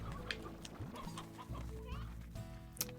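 Chickens in the video game Slime Rancher cluck in short, scattered bursts over a steady hum of game ambience and music, with a brief louder squawk near the end.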